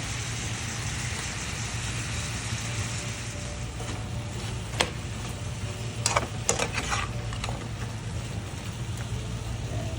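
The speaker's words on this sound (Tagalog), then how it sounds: "Then, ngayon naman, itong potato. Diba? Igisa-gisa rin." Potato and ground beef sauté in a pan for beef giniling, a steady soft sizzle with a few sharp clicks of stirring, no talking.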